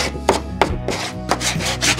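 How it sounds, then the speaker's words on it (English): Sandpaper rubbed along the edge of a cedar trim board, giving a few close, rough scraping strokes in an uneven back-and-forth rhythm with no talking. "And just take some sandpaper."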